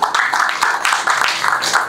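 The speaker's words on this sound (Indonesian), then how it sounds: "Berikan tepuk tangan untuk Tuhan" A congregation at a midweek church service claps together in a steady, rhythmic beat, bright and fairly close, with short regular bursts throughout.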